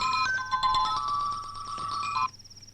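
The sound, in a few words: phone ringing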